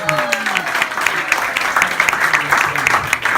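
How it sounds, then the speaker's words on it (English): A loud, close crowd claps steadily for a volunteer at an appreciation gathering, the dense applause running throughout with a few voices and a brief whoop rising over it at the start. "give her a big round of applause."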